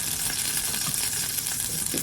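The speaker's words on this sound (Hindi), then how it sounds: "घी पे तड़का लगा के खाती हूँ" Cumin seeds sizzling in hot ghee for a tempering, a constant close crackle and hiss with scattered pops and no voices.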